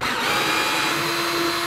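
A power tool whirs steadily for a moment while backing out a long T27 bolt on a third-generation Camaro door, a close, continuous high-pitched drone with a faint tonal whine.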